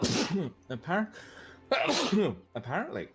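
A person sneezes twice in quick succession, loud and close, the bursts mixed with breathy voice sounds and brief speech from others nearby.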